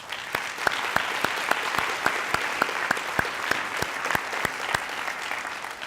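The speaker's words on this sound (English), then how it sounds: "Let's give them a round of applause" An audience at a Teacher of the Year reception applauds 23 teachers on stage, a wash of crowd clapping with one nearby pair of hands striking loud, evenly spaced claps in a steady rhythm.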